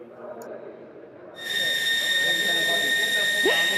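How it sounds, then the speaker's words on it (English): A racing truck cooling down at the Nürburgring gives off a sudden high, steady whistle with several sustained tones that cuts in partway and holds loud over a low background rumble of the circuit. "Es pfeift hier immer, wenn natürlich der Truck abkühlt."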